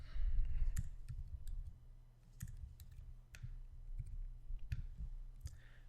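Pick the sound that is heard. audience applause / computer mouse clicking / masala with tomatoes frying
computer mouse clicking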